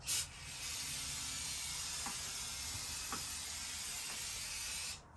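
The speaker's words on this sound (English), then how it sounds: "We're just going to use a little brake cleaner." A close, steady hiss of brake cleaner sprayed along a groove on a Stihl MS261C chainsaw, continuous for about five seconds, then cutting off.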